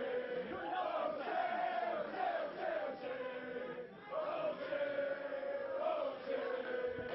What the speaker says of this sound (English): And here they go with these O'Shea chants already.